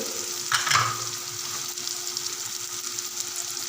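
Dry coriander and white cumin hitting hot oil in a pan with potatoes, giving a quick close sizzle and a soft stir, then settling into a quieter steady fry with no talk.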